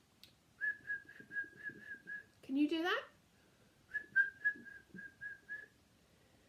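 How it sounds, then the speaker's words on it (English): A person whistles a series of short, evenly spaced notes, then a rising warbling call, then another run of short notes, quiet and close with a brief spoken question in between. "just come into the enchanted wood, whistle 7 times"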